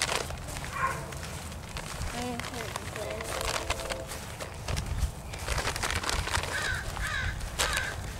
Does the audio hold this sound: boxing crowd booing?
no